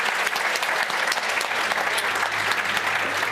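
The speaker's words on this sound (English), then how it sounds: "A big round of applause once again." An audience at a media conference claps steadily, a dense, loud burst of applause lasting a few seconds with no break.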